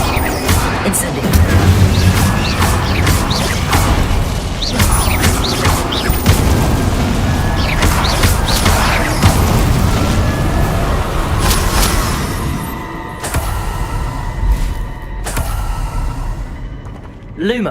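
Incendio fire spells from Hogwarts Legacy bursting in a dense, continuous barrage of booming blasts and crackling impacts, loud and close, with some game voice sounds mixed in before the blasts ease toward the end.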